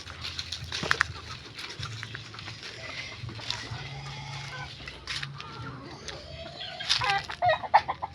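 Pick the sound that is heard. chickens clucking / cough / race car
chickens clucking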